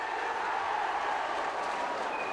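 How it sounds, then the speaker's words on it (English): A rugby league crowd at a Hull KR home match against Whitehaven roars in sustained cheering, a dense wash of many voices at steady loudness without a break, and no single voice stands out. "The crowd's finding the voices now"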